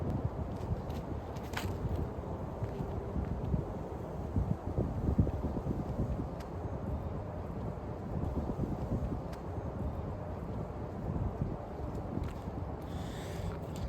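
Wind gusts across an open golf course, a steady low rumbling buffet against the microphone with occasional faint rustles and soft ticks, continuous and fairly quiet.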